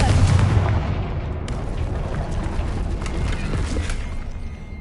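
The Confringo blasting curse goes off in Hogwarts Legacy, leaving a loud, continuous rumbling blast with crackling debris that holds steady for several seconds.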